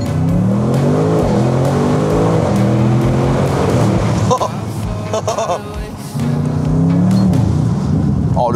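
Audi RS3 engine revving hard under acceleration, loud and close with rising and falling harmonic sweeps, a brief dip midway, then climbing again.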